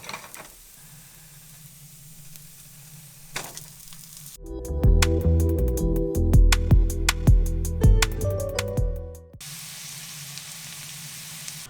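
Butter sizzles and crackles in a pan with browned onions, a loud burst of frying with sharp clicks and scraping that swells for about five seconds before dropping back to quiet room tone.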